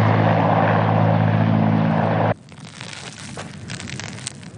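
Military helicopters roar loudly during a live-fire tactical exercise, a dense rotor and engine drone that cuts abruptly to quieter, crackling field noise with distant rumbles.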